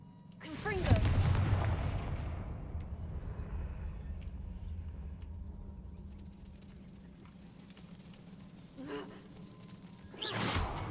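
A Confringo fire spell is cast in the Hogwarts Legacy video game: a loud whooshing blast bursts up near the start, then a low rumbling hum lingers and slowly fades, with a second swell of sound near the end.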